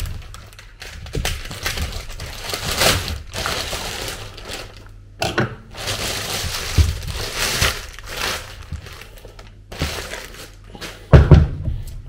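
A fish room water heating unit being opened up by hand, with close, intermittent clatters, clicks and rattles of the housing and no talking.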